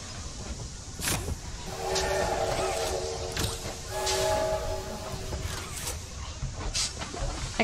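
A train rolls along in the video game Poppy Playtime Chapter 2, its horn sounding in two sustained blasts over a rumbling hiss, with sharp clanks scattered throughout.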